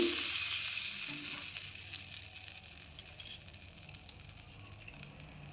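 Hot oil poured into Mysore bajji batter gives a brief bright sizzle that fades quickly into soft hissing, with a small clink partway through and no talking.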